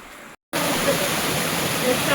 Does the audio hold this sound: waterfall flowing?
yes